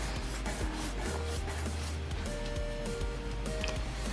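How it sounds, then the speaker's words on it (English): A small plastic custom minifigure leg rubbed against sandpaper, giving a continuous close scratchy rasp with repeated back-and-forth strokes and no talk. "Gotta make sure the leg comes in towards you, like that, as you sand, so that way you can still have that nice smooth arc."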